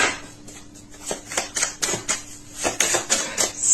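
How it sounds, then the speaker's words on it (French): Tarot cards are shuffled and drawn, making a quick, irregular series of crisp, close clicks and slaps as the cards snap against each other and land on a surface. "on va rajouter une carte"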